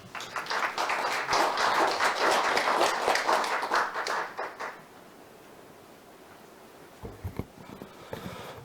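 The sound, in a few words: audience applause at a seminar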